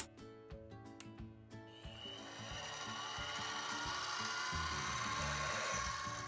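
A Harbor Freight mini milling machine's motor hums steadily while a drill bit grinds into a metal part, the cutting noise growing louder and harsher over several seconds; no one speaks.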